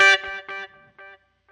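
Bright, distorted guitar notes repeating and fading in echoes, bouncing back and forth between left and right as they decay into silence.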